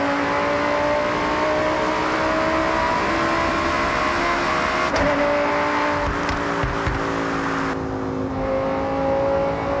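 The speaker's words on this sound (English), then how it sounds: "This is the 2014 Lamborghini Huracán LP" A 2014 Lamborghini Huracán LP 610-4 sounds loud and close, its engine note holding a steady, rising tone with harmonic layers, with brief sharper bursts near the end.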